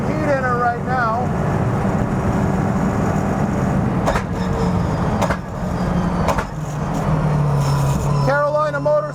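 A Toyota GR86 Cup race car idles at Carolina Motorsports Park to warm up, a steady loud engine drone with a few short revs, while someone talks over it.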